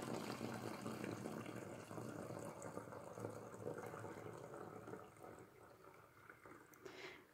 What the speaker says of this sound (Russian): наливаю литр воды.